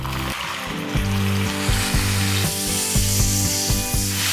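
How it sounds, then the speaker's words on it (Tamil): Water poured onto jaggery in a hot pan hits with a loud, steady sizzle and hiss, bubbling and spattering continuously at close range with some clinking in the background, and no voices. "கொஞ்சமாக தண்ணி ஊற்றிக்கலாம்."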